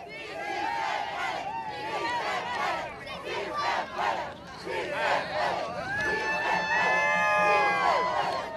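Crowd of immigration demonstrators marching in 2006, a dense mass of shouting, chanting and whooping voices that rises and falls continuously, loud and close, with individual cries and whistles breaking through near the end.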